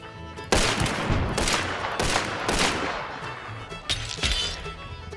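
Gunfire from an early German semi-automatic pistol in Hunt: Showdown, several loud close shots with ringing reverberant tails and a crackly, shattering texture filling the space between reports.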